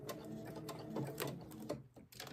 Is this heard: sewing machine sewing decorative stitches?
yes